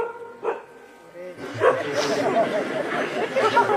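A dog barks and yips a few times during a kirtan, with short bursts mixed under a voice and crowd sounds.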